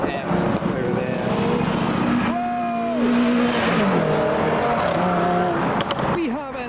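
A Nissan S13 pulls around a roundabout at a Japanese car meet, its engine note rising and falling among other running cars, with voices and crowd chatter over it.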